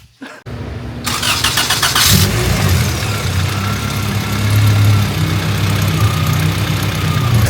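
A Volvo B18 engine in an EF wagon runs with bad, noisy valves, first a short click, then a steady loud idle with a low rumble and mechanical clatter.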